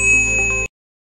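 A single bright notification bell ding rings clearly with a sustained metallic tone, then cuts off abruptly into silence.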